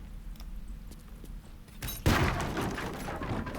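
In Baldur's Gate 3, an explosive barrel is shot, setting off a sudden loud burst midway that rolls on into a rumbling crackle after quieter ambience.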